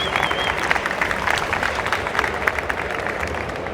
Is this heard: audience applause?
yes